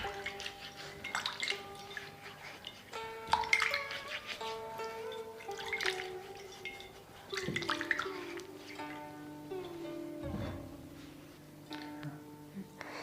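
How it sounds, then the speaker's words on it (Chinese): A white-skinned radish being rinsed under running tap water, with a steady splashing flow broken by louder bursts as the vegetable is turned and rubbed in the stream. "咱们把萝卜也清洗一下"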